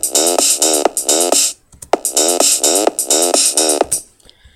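A sidechained house bass line made in FL Studio pumps in loud rhythmic bursts, each phrase swelling with rising buzzy sweeps and ducking sharply between beats, with brief gaps and clicks.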